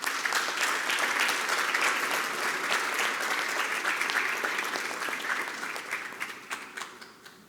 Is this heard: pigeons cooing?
no